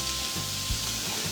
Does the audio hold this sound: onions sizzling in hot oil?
yes